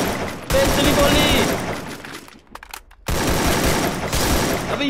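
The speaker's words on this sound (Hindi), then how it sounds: "गोलियां मारने के बाद बंदा नॉक नहीं हो रहा" Rapid automatic gunfire in the Garena Free Fire battle royale game, dense sustained bursts filling the clip with a brief pause in the middle before firing resumes loudly.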